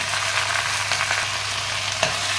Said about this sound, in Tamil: அதே பேனில் சேர்த்துட்டு இதை கொஞ்சமாக வதக்கி விட்டுருங்க